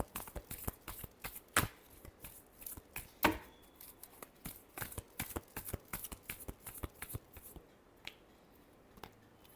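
Tarot cards are shuffled close by in a string of crisp riffling slaps and taps, irregular and fairly quiet, with no voices.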